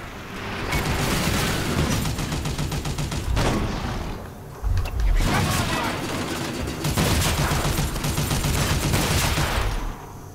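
Dense, continuous gunfire and machine-gun bursts with booming blasts from the Toy Soldiers: Cold War video game fill nearly the whole stretch, loud and layered, with a short dip midway and a voice occasionally over the battle.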